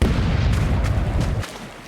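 Ship cannons fire in the Rogue Waters pirate video game, a dense run of booming blasts and rumbling bursts that fill the first second and a half before dying down, with no talk over them.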